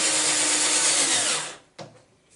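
Power drill reaming a hole in a wooden part for a small toy boat, a steady whining drone for about one and a half seconds, then the motor stops, followed by a short knock and quiet.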